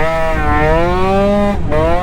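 An Aprilia SR50 scooter fitted with a Malossi RC1 kit accelerates at quarter throttle, a loud, close two-stroke buzz whose pitch climbs steadily with a brief dip near the end.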